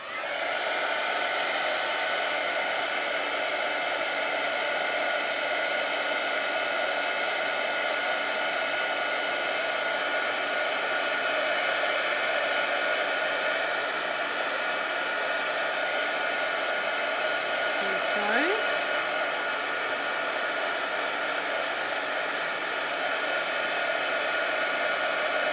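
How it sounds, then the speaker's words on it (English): A heat embossing tool blows hot air in a steady, loud, unbroken whoosh that lasts the whole stretch, with no voices over it. "I'm going to use the heat embossing tool to set this"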